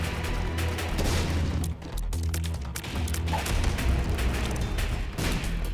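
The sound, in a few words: bombs exploding in video game The Binding of Isaac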